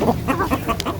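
Young chicks make close, rapid clucking and cheeping calls, several short bursts in quick succession with no voices.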